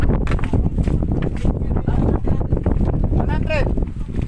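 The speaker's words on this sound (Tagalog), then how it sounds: "Tapos malakas pang hangin." Strong wind buffets the microphone in a constant roar, with people talking underneath, outdoors at Monte Maria Shrine.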